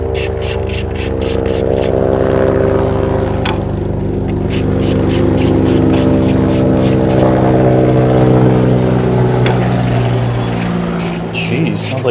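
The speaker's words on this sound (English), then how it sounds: "We've had a lot of like military jets and some big helicopters flying over the last few weeks." Military aircraft pass overhead with a loud, sustained roar and throbbing propeller or rotor drone, steady and close for the whole stretch, punctuated by sharp repeated clicks or taps.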